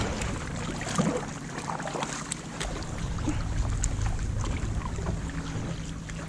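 A small boat being paddled through water outdoors, with soft splashes and gurgling from the paddle strokes over steady water and wind noise, close to the microphone.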